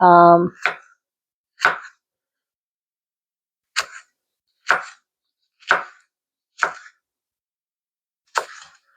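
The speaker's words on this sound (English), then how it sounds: "And then you chop that up." Knife chopping food on a cutting board in a home kitchen, several separate sharp chops spaced irregularly across the clip, close and distinct, with a short vocal sound at the very start.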